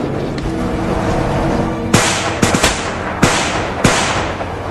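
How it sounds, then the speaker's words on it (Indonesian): Gunfire cracks out in a film shootout between Mossad agents and bodyguards: about five sharp, loud shots spaced irregularly over a dense background rumble. "Baku tembak pun terjadi antara agen Mossad dan pengawal Zayat Mukasi"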